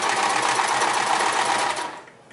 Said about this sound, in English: So let's just quickly do a straight stitch.